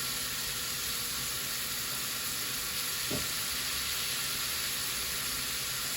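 Pot roast gravy cooking down in a hot pan, a dense, unbroken hiss of sizzling and bubbling, loud and close, with one brief low knock partway through.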